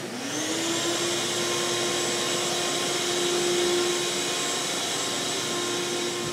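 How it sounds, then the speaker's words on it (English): A shop vac runs steadily, its motor spinning up at the start into a loud, continuous whine with a rushing airflow hiss that holds unchanged to the end, close by with no other sounds. "a shop vac."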